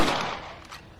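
A rifle gunshot in the video game Red Dead Redemption, a loud close blast whose rumbling tail fades away over about a second, with no voices.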